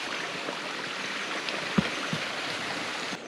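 A woodland stream in Britain flows with a steady, broadband rush of water. A few faint knocks and splashes rise over the even flow, and nobody talks.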